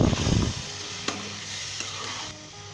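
Beef in a pot being stirred with spices and salt, a steady sizzle under a brief loud scraping stir at the start, then quieter with a couple of light utensil clicks.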